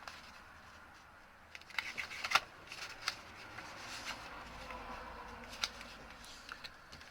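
A sheet of origami paper is lifted, opened and squash-folded while making a paper dinosaur, giving faint close crinkles and a few sharp crisp creasing snaps over a quiet background.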